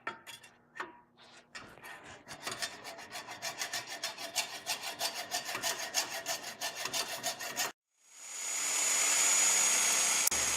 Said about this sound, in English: I'm going to have to just cut it off, and I'm going to use this handsaw